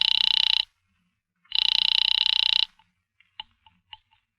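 An old-fashioned telephone bell rings in two loud bursts, a short ring and then a longer ring separated by a pause, followed by a few faint clicks of the receiver being handled.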